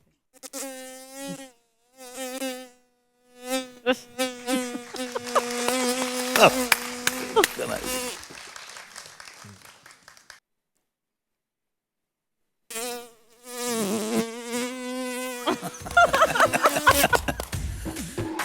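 A comedy mimicry artist uses his voice to imitate a buzzing housefly, with wavering, whiny drones in short bursts, a longer swooping stretch, a pause, then more buzzing.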